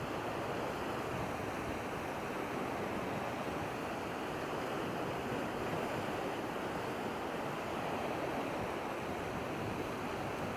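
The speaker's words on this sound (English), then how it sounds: "the wind's kicking up too" Wind gusting across the shore at low tide, a steady broad roar mixed with surf wash and some microphone buffeting, continuous and fairly loud, with no voices.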